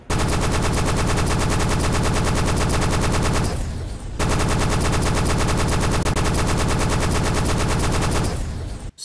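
Rapid automatic gunfire from the mech combat game Armored Core 6 hammers continuously at close range, breaks off briefly for half a second, then resumes just as dense and loud until the end.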